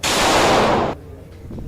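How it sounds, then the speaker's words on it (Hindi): Gunfire during firing training inside a classroom: one loud, broadband blast that holds for nearly a second, then cuts off abruptly into a quiet room with faint background murmur. "कोई फायरिंग की ट्रेनिंग दे रहा है"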